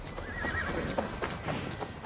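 A horse in the Assassin's Creed Valhalla video game gives a whinny over a run of clip-clopping hooves, fairly quiet and moderately close.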